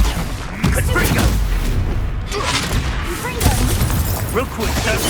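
Explosive Confringo spell blasts in Hogwarts Legacy, a string of loud booming impacts and bursts amid battle clatter, with someone speaking over the action.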